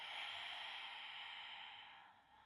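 A slow, steady exhale during a core exercise, a soft breathy rush that runs evenly for about two seconds and then tapers off, heard close and alone with no talking.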